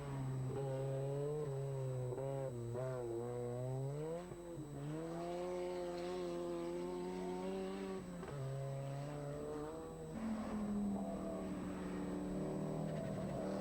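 A Ford Sierra Cosworth rally car drives on a stage, its engine note rising and falling through several revs and gear changes, loud and close, with no talk over it.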